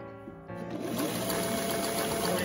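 Sewing machine stitching fabric piping with the foot pressed against the cord on a Christmas dress: the motor starts up and keeps a steady, close whirring hum to the end.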